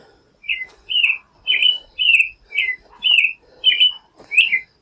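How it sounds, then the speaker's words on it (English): A bird in the Vermont woods repeats a bright chirping call about eight times in an even rhythm, each note clear and moderately close in quiet surroundings. "They're just chirping up there."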